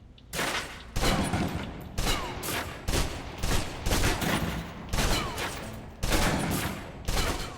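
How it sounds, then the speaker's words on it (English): Submachine gun in the video game Alpha Protocol emptying its magazine in repeated rapid bursts, loud and close, with brief pauses between strings of automatic fire. "Now, let's move on to the submachine gun. Now let's empty the clip."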